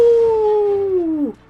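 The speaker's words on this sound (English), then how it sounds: "howling like a dog do" A dog howls during a video game boss fight: one loud, sustained tonal howl that slowly drops in pitch, then bends sharply down and cuts off after little more than a second.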